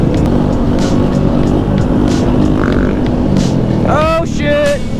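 Honda Grom motorcycle riding at a season-opener event, a loud continuous engine drone with wind noise throughout, close to the mic, with a brief voice near the end.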